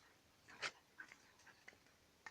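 A small puppy gives faint, soft whimpering and snuffling sounds in short bursts, very quiet and close by.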